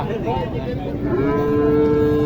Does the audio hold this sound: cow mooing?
yes